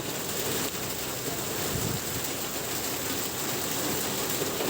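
Heavy rain falls steadily in Meherpur, a dense continuous hiss and roar of water on surfaces with wind-like rushing, unbroken for several seconds and no talking.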